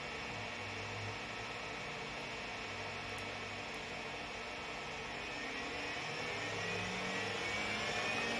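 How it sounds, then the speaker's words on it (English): A motor runs at about half speed, a steady whirring hum with a broad hiss, even and continuous throughout, fairly quiet and with no voices. "with the motor running, that's about half speed"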